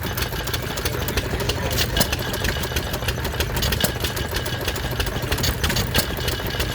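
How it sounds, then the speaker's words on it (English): A Bulldog open-crank hit-and-miss stationary engine running at a Victorian show in Llandudno, a steady chugging beat with clattering mechanical knocks and a low rumble, close and continuous with background crowd noise. "And one of my favourites, the Bulldog. Open crank, hit and miss."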